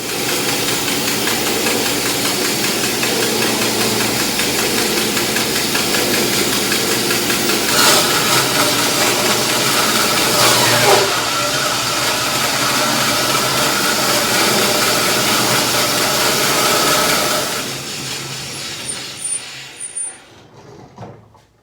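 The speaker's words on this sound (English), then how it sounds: "you can see me just take a thin slice off the very top of this log" A worktable sawmill saw takes a thin slice off the top of a log, a loud, steady engine-like drone running for about seventeen seconds with a couple of brief rises, then winding down and stopping, with no talk.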